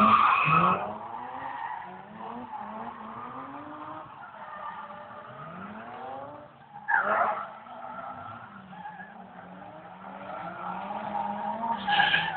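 A BMW drifting in Middelfart, its tires skidding and squealing in long sweeping wails that rise and fall as the engine revs, loud and continuous, with a sharper burst near the middle and at the end.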